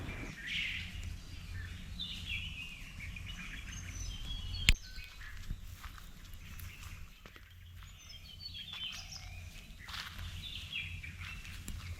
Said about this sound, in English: The only sounds around us were birds and the gentle rustling of leaves